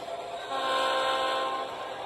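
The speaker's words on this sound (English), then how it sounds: "My locomotives are kind of loud." Athearn model train locomotives running with a Chessie caboose, a steady whining, tonal motor drone that swells after half a second and holds, fairly close and loud, with no talking.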